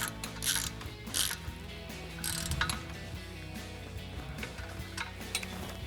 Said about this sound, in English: Tighten this down with our E8 torque socket